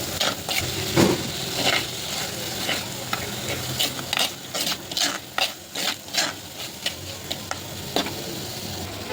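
Onions sautéing with salt in a pan, with rapid, loud scraping strokes of a spoon close up, repeated in an uneven rhythm over a constant soft sizzle.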